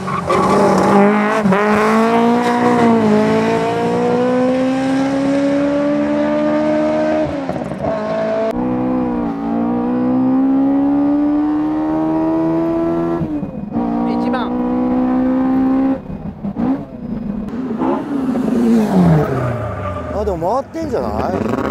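A Toyota AE86 with a high-revving 4A-G engine and Hayabusa heads, built to 11,000 rpm, revs hard while driving, its engine note climbing and falling in long sweeps with brief tire noise, under steady talk from people in the car.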